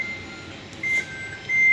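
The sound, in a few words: kitchen timer alarm beeping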